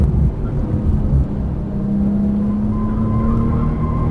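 A Porsche 991 Turbo S engine drones loudly and steadily on a track, with a low rumble and a faint rising tone as the car is driven hard through braking and downshifts.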